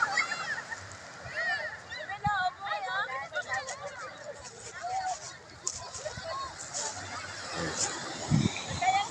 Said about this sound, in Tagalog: Naliligo po yung mga kabataan. Lahat po kami naliligo.